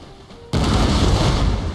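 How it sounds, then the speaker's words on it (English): Howitzer cannons firing in Napoleon: Total War: a sudden loud boom after a quiet half-second, followed by a sustained roaring rumble of artillery. "Here my cannons go to fire. Fire away, howitzers!"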